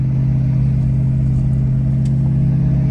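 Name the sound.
truck with gooseneck trailer climbing steep snowy driveway in 4-wheel drive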